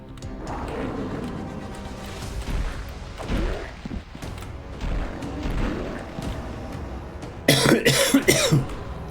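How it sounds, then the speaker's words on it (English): A person coughing several times close to the microphone, with heavy bursts spread through the stretch and a cluster of harsh coughs near the end, loud and without talk. "Sorry for the coughing."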